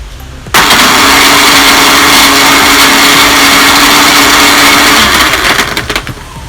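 A blender with ice and lassi ingredients starts abruptly and whirs loudly and steadily at close range for several seconds before winding down.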